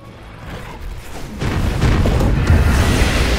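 A Dota 2 tower collapses in a video game match, a swelling deep rumbling boom that builds and holds loud to the end, without speech.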